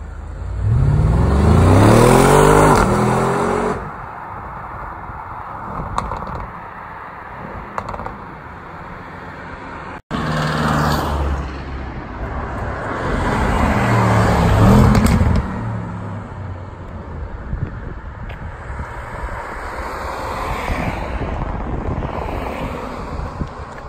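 A loud engine revs hard in two bursts with rising, roaring pitch sweeps, then settles into a rough idle between them.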